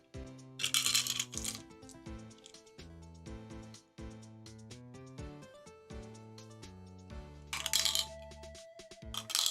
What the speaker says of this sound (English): And now some dice ASMR.